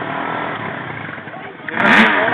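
A motorcycle engine runs steadily at close range for a couple of seconds, then swells louder with a brief clattering burst near the end.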